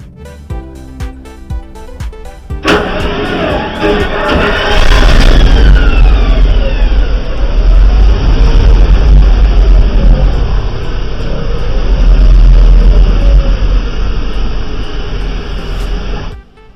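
A 1967 Pontiac Firebird convertible with a 400 Pontiac V8 and three-speed automatic drives by, loud and close, with a sudden onset followed by a deep, steady engine rumble that swells and eases through gear changes.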